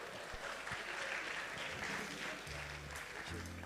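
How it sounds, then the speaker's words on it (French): Audience applause at a film festival closing ceremony, a steady dense clapping from a hall crowd that fills the clip and holds an even level from start to finish. "Merci de l'applaudir."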